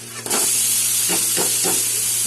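Grated papaya lands in a pan of frying potatoes with a sudden loud sizzle that keeps hissing steadily, broken by a few soft stirring scrapes.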